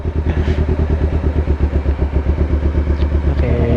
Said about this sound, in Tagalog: Tapos maingay yung motor natin.